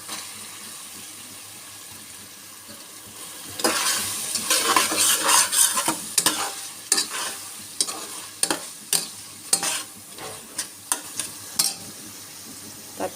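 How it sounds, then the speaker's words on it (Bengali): Noodles are stirred and mixed with tomato sauce and other ingredients in a pan, a quiet sizzle that gives way to repeated rhythmic metal utensil scrapes and clinks, close and fairly loud, with no speech. "এখন সুন্দর করে আমি ভালো করে সবগুলো উপকরণ মিশিয়ে নেব"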